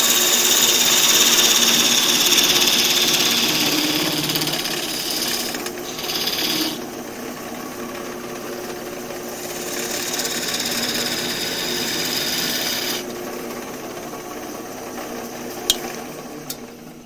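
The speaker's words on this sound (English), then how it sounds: "We'll clean up some of it with the spindle gouge." Spindle gouge cutting a spinning workpiece on a wood lathe, a steady loud scraping hiss with brief dips and shifts as the tool moves along the wood, with no talk.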